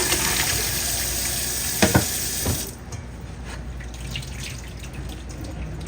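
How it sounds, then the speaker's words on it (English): Boiled yellow potatoes drain with a steady rushing pour of water and clattering into a sink, ending suddenly midway, then faint dripping and quiet splashes remain. "Gonna drain our potatoes."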